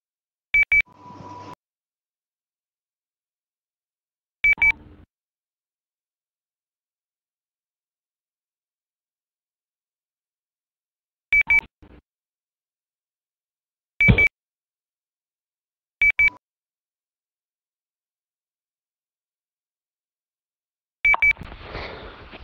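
A phone button beeps in short, sharp electronic bursts, about six spread widely apart over a quiet background, heard during a church service.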